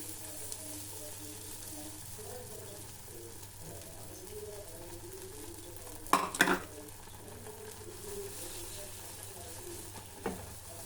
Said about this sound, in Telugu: బాగా కలిపినటువంటి ఎగ్గు, ఎర్రగడ్డ, కొత్తిమీర, గరం మసాలా వేసి ఇది పెనం పెట్టుకొని పెనం వేడైన ఇంకా దానిపైన వేయడం అండి